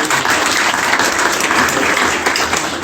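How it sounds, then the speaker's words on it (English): Loud, full applause from the crowd gathered at the YorkTowne Hotel ribbon-cutting ceremony, a dense, even wash of many hands clapping without pause and no voices over it. "You all deserve a round of applause."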